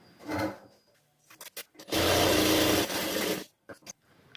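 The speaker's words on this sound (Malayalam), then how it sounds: "ഇതിൻ്റെ നല്ല വശവും നല്ല വശവും ചേർത്ത് അരികിൽ കൂടി ഒന്ന് സ്റ്റിച്ച് ചെയ്തെടുക്കണം" A sewing machine runs a continuous burst of stitching along the edge of a fabric neck piece. The whirring is fairly quiet and close, and soft handling noises come before and after it.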